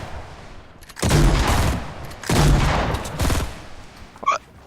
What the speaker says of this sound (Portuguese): Estou a levar tiros noroeste.